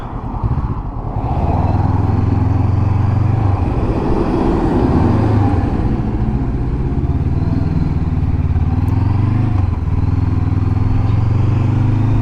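A Honda CB500X motorcycle rides along a rural farm lane, its engine droning loud and steady throughout with shifts in pitch as the throttle changes.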